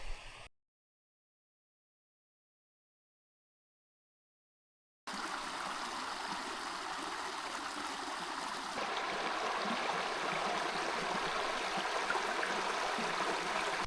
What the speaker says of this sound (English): that's Limestone Creek.